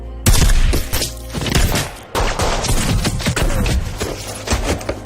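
Film firefight between Turkish soldiers and ISIS fighters, with loud, dense bursts of gunfire crackling in rapid volleys, a brief lull, then sustained overlapping shots to the end.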